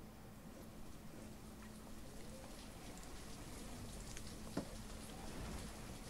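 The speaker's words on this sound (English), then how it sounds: "if it's going to be raining all this time" Soft, steady rain falls in the video game Banished as an even, faint hiss with scattered drops and one brief tap, continuing throughout.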